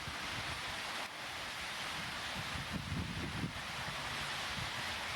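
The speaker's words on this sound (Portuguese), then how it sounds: "mostra a ventania que passou por lá" A strong windstorm in Itaiópolis roars through a steady broadband rush of gusts and wind buffeting the microphone, with rumbling surges, no voices.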